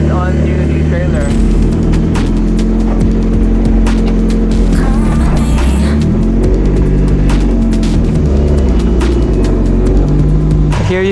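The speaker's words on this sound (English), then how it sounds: "So just warming up the motor" A Ferrari 550 Maranello engine warms up close by, giving a loud, steady rumble with layered harmonic drone, small shifts in pitch through the middle and a sharper rev near the end.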